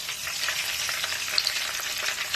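Ghee poured onto garlic that has been fried deep red sizzles steadily and close up in a pan, with a soft, continuous crackle and no voices.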